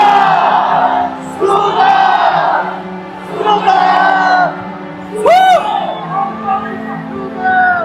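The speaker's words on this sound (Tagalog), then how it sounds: "Sabay-sabay, sumisigaw!" A large crowd at a rally in Liwasang Bonifacio shouts together in loud, sustained chant-like waves with brief gaps between them, the massed voices rising and falling close and strong.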